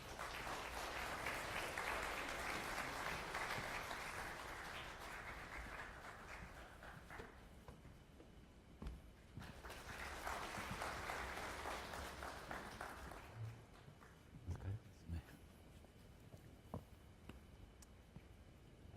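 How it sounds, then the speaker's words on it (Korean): A lecture audience applauds professors Na Jin-kyung and Seok Hye-won as they are welcomed onto the stage, in two strong waves of clapping that fade into scattered claps and shuffling. "박수로 모시겠습니다."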